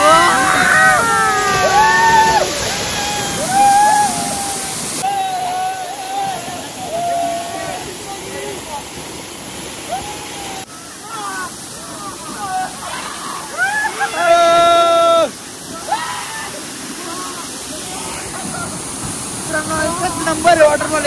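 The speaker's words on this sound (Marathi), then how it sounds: "तर जाम भारी वॉटरफॉल आहे, एकदम भारी आहे." A heavy waterfall roars steadily in the background while people talk loudly and excitedly over it, with splashing water throughout.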